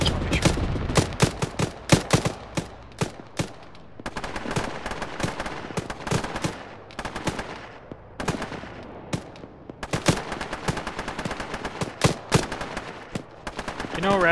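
Repeated bursts of automatic gunfire and single rifle shots in a squad-based military game, loud and near with short pauses between clusters, sometimes layered with more distant shots.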